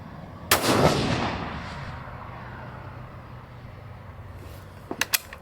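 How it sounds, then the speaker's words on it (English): A single loud .22 Nosler rifle shot cracks close by at a shooting range, firing an 80-grain ELD-M load, with a long echoing decay and some faint sharp clicks near the end. "I'm going to shoot these last two and just see what I get for a 5-shot group there."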